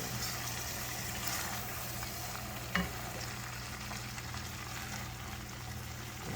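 A green bean casserole mixture with bacon and butter being stirred, giving a steady dense sizzling hiss with one brief clatter of the spoon midway, close and continuous with no talk.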